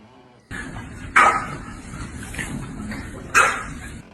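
A dog near a fried chicken grill stand gives two short, sharp barks about two seconds apart, over steady outdoor background noise.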